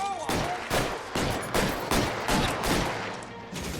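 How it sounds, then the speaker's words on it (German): Pistol gunfire in the video game L.A. Noire, a rapid series of about eight sharp shots at a steady rhythm, loud and close, with a little game dialogue underneath. "Ich würde gern die Pistole benutzen."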